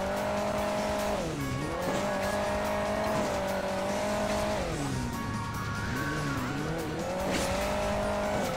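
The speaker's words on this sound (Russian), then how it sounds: "Там мотик, ты видел, как шпарит?" A racing motorcycle engine in Hill Climb Racing 2 whines continuously, its pitch rising and falling as the rider accelerates and eases off, loud and close throughout.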